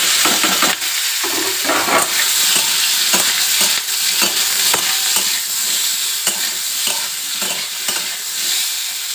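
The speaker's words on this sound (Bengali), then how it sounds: "সর্ষে আর কালো জিরে ফোড়ন দিলাম আর দুটো শুকনো লঙ্কা দিলাম ভালো করে ভেজে নিচ্ছি" Mustard seeds, black cumin and two dry red chillies fry in hot oil for a tangy amla pickle, a steady close, loud sizzle with popping crackles and the repeated scrape of stirring, no voices.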